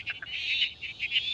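Spotted marsh frogs call from a wetland chorus, a run of short repeated clicking notes pulsing irregularly, fairly faint and distant, with other frogs blending into the background.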